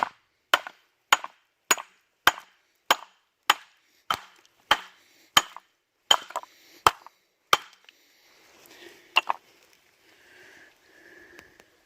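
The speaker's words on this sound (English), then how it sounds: "We'll hammer this one open and see what's inside this." Hammer blows cracking open a sulfide rock, about a dozen sharp, evenly spaced strikes close by, then a few scattered knocks and faint rustling.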